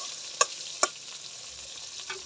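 Potato and eggplant fry in oil in a pan, a faint, steady sizzle with two sharp utensil clicks against the pan early on and a softer one near the end.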